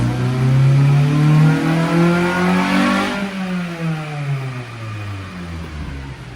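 A Chevy S10 pickup with a swapped-in carbureted 302 V8 revs up hard, the engine note climbing strongly, then falling away as it settles back toward idle, loud and close, with no talking.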